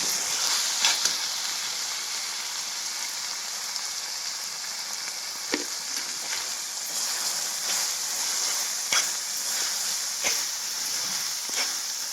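A steady soft hiss of mutton keema with cashews simmering in a pan, with occasional small pops and crackles breaking through the continuous sizzle, moderately quiet and close.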